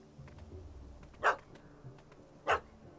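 A dog in The Witcher 3 gives two sharp barks about a second apart, loud and close over a quiet game ambience.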